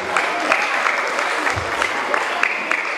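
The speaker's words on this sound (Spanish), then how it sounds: "Fuerte aplauso para Andy." Applause from an audience of parents, classmates and friends greeting a young boy, Andy, at a school tribute to César Vallejo, steady and fairly loud clapping throughout, no speech.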